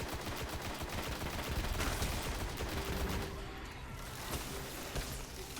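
Gunfire in the sci-fi shooter Destiny: dense bursts of shots rattling over a busy battle soundscape, strongest in the first few seconds, with a few later cracks.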